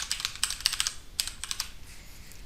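Quick typing on a computer keyboard, entering attribute values in a PrestaShop 8 admin page, with light, close, irregular key clicks in short bursts and no voices.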